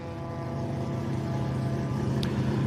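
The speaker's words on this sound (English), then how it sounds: "I can't ask him because this rotary engine is just way too loud" Loud rotary engine of a race car at a Road Atlanta SpeedTour event, a steady close harmonic drone with a rising pitch near the end, filling the whole moment with no voices.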